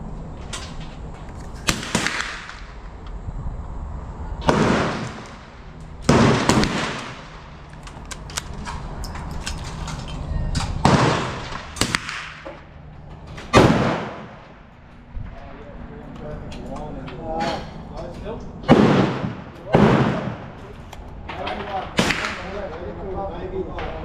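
Sharp gunshots from a Winchester 22LR Xpert rifle fired freestanding at 25 metres outdoors, about ten loud cracks spaced irregularly a few seconds apart, with people talking between shots.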